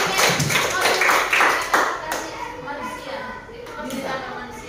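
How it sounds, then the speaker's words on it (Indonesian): Students in a classroom clap their hands in a quick burst that is loudest at first, then thins into scattered claps while children's voices chatter over it. "Mari kita beri tepuk tangan untuk kita semua."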